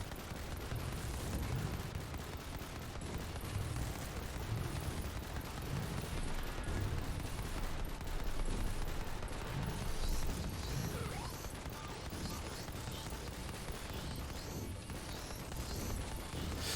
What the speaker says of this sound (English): You see the grenade launcher does a really good job of holding its area.